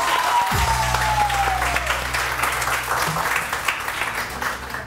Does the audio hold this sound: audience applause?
yes